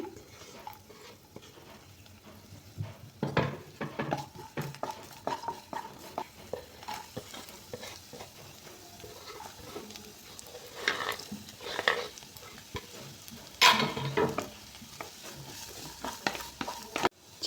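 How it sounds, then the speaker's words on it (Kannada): Garlic and finely chopped ginger frying in hot oil for chicken fried rice, with a low steady sizzle and repeated clinks and scrapes of a spoon in the pan, close and without voices. "ಆಯಿಲ್ ಹೀಟಾಗಿದೆ ಈಗ ನಾನು ಒಂದು ಗಡ್ಡೆ ಬೆಳ್ಳುಳ್ಳಿಯನ್ನು ಹಚ್ಚಿಟ್ಕೊಂಡಿದ್ದೇನೆ"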